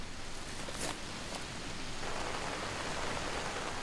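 Steady rain falls across a hillside field of bracken ferns, a dense, even hiss holding at a constant level throughout with no voices.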